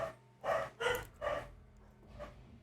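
Dogs barking indoors, four gruff barks in a quick irregular run followed by a softer one, moderately close but fairly quiet, with light panting between.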